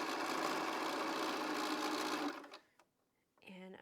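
A sewing machine stitches quilt seams at close range, a steady, loud mechanical whir for about two seconds that then stops, followed by quiet and a few words of speech.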